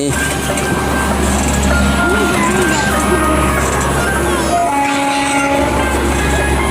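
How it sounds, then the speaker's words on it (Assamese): A train passes near a children's park and nursery in Makri, Goalpara, Assam, producing a steady, loud low rumble for the whole stretch while someone talks over it. "ট্ৰেইন এখন গ'ল।"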